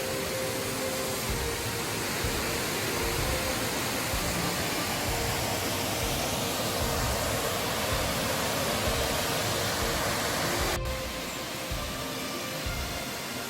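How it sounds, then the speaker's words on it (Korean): A waterfall in a mountain valley forest recreation area pours heavily, a constant broad roaring rush of water that stays loud and even throughout, with no talk. "폭포가 아주 시원하게 내리고 있습니다."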